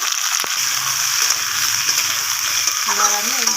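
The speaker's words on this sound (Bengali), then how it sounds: "এবার আমি এর মধ্যে ঝিঙেগুলো দিয়ে দেবো" Ridge gourd pieces hit hot oil with fried onions in a pan, making a loud, steady hiss and sizzle up close that lasts throughout, with a voice faintly heard near the end.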